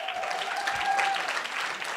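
Audience applause at the finals of a Women in Tech hackathon, a steady, even patter of many hands clapping at moderate loudness, with a faint tonal whistle mixed underneath.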